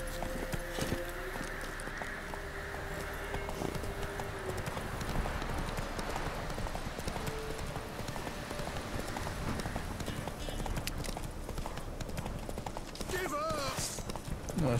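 Horse hooves clip-clop at a steady gallop in The Witcher 3, rhythmic and continuous at moderate volume beneath game sounds, with someone talking at times.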